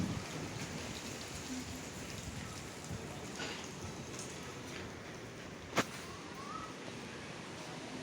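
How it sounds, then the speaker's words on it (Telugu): Heavy rain falling with strong wind shaking the trees, heard as a continuous even hiss of rain with a single sharp crack partway through, fairly faint overall. "సో ఇక్కడైతే చాలా వర్షం పడుతుంది."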